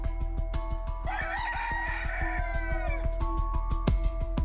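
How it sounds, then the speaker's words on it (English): A rooster crows loudly and close by from a neighbour's backyard poultry, its long drawn call rising over steady rhythmic background clatter, with another crow starting near the end. "had had enough of cocks crowing all night"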